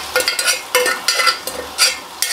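Precooked boti drops into a pan of frying tomato and onion for a village-style curry. Sharp, loud bursts of sizzling and scraping rise and fade in several uneven waves, with no talking.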